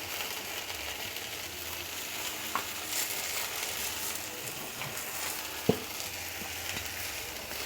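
Spiced vegetables with turmeric, drumsticks, potato, tomato and lentil dumplings frying in a pan, a constant dense sizzle with two brief clicks of the spoon, close up and with no talking.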